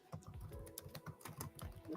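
Rapid, close typing on a computer keyboard, a dense run of soft clicks over two seconds with no voices.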